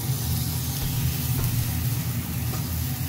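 Bacon sizzling on a greased griddle in pork lard, a steady broadband crackle and hiss with a low hum underneath, continuous and close, no voices.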